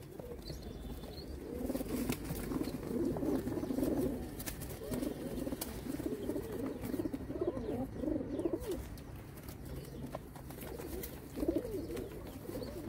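Young pigeons coo in repeated soft, throaty phrases, several birds overlapping at close range, with occasional wing rustles and light clicks and no talk.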